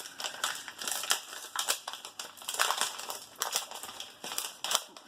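A heavily taped art swap package being unwrapped, with repeated crinkling, tearing and ripping of tape and paper in quick irregular bursts close up. No one speaks.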